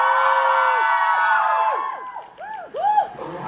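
A concert crowd of fans screams, whoops and cheers loudly for a singer. Sustained high shrieks rise and fall in overlapping waves, then thin out into a few separate rising shouts.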